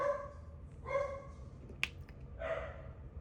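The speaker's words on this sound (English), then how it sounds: "Dang dogs." Dogs make short whining, yelping vocalizations indoors, three brief cries spaced about a second apart with a sharp click between them, fairly faint and close.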